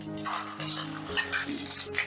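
Egg koftas fry in hot oil in a pan with a continuous close sizzle. Utensils scrape and clink as the pan is stirred, and no one speaks.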